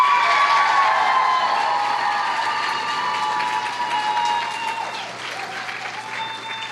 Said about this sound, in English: how about one more round of applause for our amazing participants backstage?